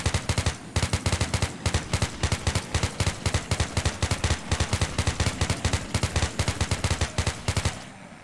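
Rapid automatic gunfire from the video game Crimson Earth 2 rattles in fast, even bursts, loud and continuous with brief gaps, and no voice over it.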